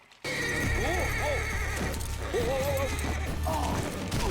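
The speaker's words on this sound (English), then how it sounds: "The horse is like, whoa, don't you get me, Smith." A horse neighs and whinnies several times in rising, wavering cries, close and loud, over a steady background.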